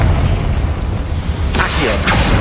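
A Confringo spell explodes in a mine with boilers in Hogwarts Legacy on PS5, heard as a dense, loud boom with rumbling low end and a sharp crackling burst near the end.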